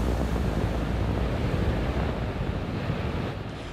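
Steady surf and gusting wind roar at Siesta Key Beach on the Florida coast during red tide, a loud, continuous wash with mic rumble that eases slightly at the end.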